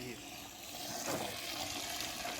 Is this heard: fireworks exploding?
no